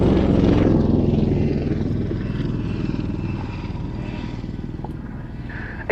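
A Royal Navy Wildcat helicopter of 825 Naval Air Squadron's Black Cat display flies at an air show, its rotor and turbine drone loud at first, then easing slightly as it moves off, steady throughout.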